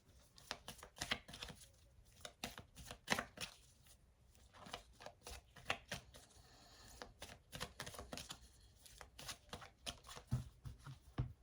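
A deck of oracle cards is shuffled by hand in quick, crisp riffling bursts with brief pauses between them, followed by soft slaps as the deck is cut. The sound is close and fairly quiet, with no talking.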